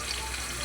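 Food frying on a very hot home stove, a steady close, bright sizzle with fine crackling and spattering, continuous and alone without talk.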